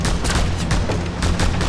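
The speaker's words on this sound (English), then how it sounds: "Where am I getting shot from?" Gunfire in the video game Just Cause 2: a loud, dense run of shots crackles through the short stretch, with sharper bursts near the start, the middle and the end over a steady low rumble.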